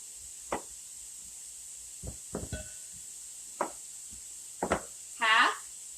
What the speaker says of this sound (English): We're getting lots of practice chopping today.